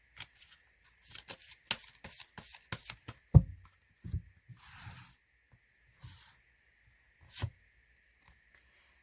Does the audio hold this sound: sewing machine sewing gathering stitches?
no